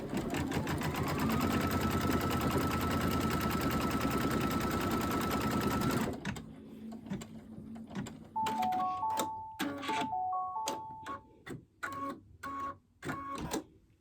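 A sewing machine stitches down a quilt block for a wildflower cushion, a loud continuous whirring run that stops abruptly, followed by short start-stop bursts of stitching and clicks, close by.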